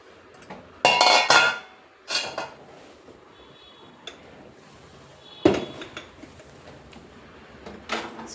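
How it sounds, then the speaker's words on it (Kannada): Washed baby potatoes tumbling into a metal pressure cooker, making loud clattering clinks in a burst near one second, then a few softer knocks and scrapes of the pot and lid, close up with no talking. "ಈಗ ಇದು ಕುಕ್ಕರಲ್ಲಿ ಹಾಕ್ಬಿಟ್ಟು ಒಂದು 2 ವಿಜಿಲ್ ಬರೋ ಥರ ಬೇಯಿಸ್ಕೊಳ್ಳೋಣ."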